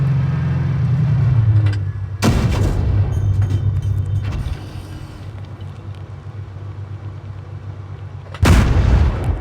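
Two heavy tank cannon blasts in the video game World of Tanks Blitz, one early and one near the end, each a sharp loud boom over a steady low engine rumble.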